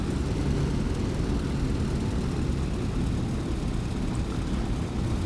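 A P-47 propeller aircraft taxiing in the DCS flight simulator, its engine a constant, dense low drone that holds steady and fairly loud for the whole stretch, with no talking over it.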